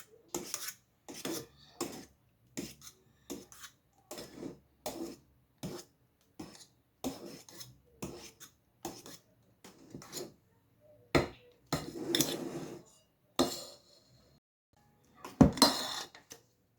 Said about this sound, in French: Je mélange délicatement, un peu.